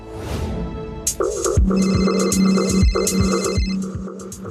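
An incoming call rings on a phone indoors during a Gujarati TV drama scene, a loud, close, repeating electronic ringtone melody that plays on its own without voices.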